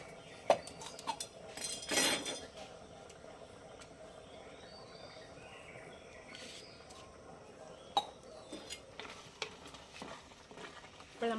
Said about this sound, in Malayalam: കുറച്ച് കുരുമുളക് പൊടി കുറച്ച് മതി എല്ലാം കൂടെ ഒന്ന് ഇളക്കി കൊടുക്കട്ടെ